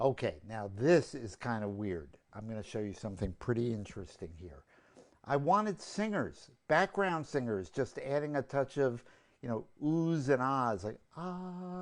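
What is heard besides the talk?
No distinct noise like a dog, phone or traffic.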